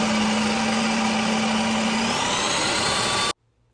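A Ninja Creami ice cream maker runs on its light ice cream setting, a loud, close, steady mechanical whir with a droning hum that holds for about three seconds and then stops abruptly.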